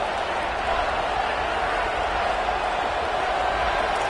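Steady, dense roar of a stadium crowd in the College Football 27 video game during a big third-down play, a continuous wash of massed voices with no distinct peaks.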